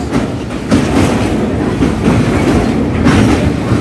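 A train crossing the long Mahanadi river bridge in Odisha, heard from on board as a loud continuous rumble with a rhythmic clickety-clack of wheels over rail joints.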